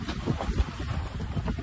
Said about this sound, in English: But we got a good wind and we're sailing.